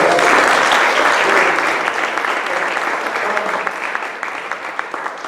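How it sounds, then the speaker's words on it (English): Audience at a community beach watch meeting applauding, a dense, loud wash of many hands clapping that holds steady and thins slightly toward the end. "can we give them a round of applause?"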